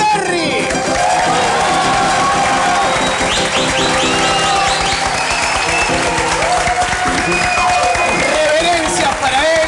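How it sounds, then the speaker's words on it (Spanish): A television studio audience greets a guest arriving for a piano comedy segment with loud, sustained applause, cheering and whoops, mixed with music and a busy crowd roar throughout. "fuerte el aplauso para el señor Héctor Perry"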